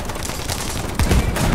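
Enemy tank gunfire in War Thunder arcade tank battles: a steady rumble of rapid fire, then heavier impacts about a second in, loud and close with no talking.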